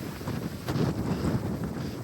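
Strong wind roars and buffets the microphone in continuous gusts, loud and rumbling, with no voices, by rough water at the port of Port Aransas, Texas.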